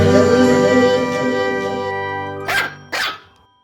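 A small pet dog gives two sharp barks near the end, following a sustained harmonic tone that fades out.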